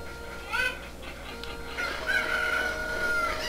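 Cucco chickens from Zelda Ocarina of Time cluck and crow in short squawky bursts over a noisy game background, moderately loud and repeated across a few seconds.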